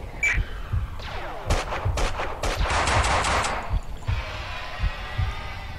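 Rapid bursts of gunfire crackle in quick volleys in the video game Max Payne 2, with heavy thuds and impacts underneath, loud and close, like a busy game shootout.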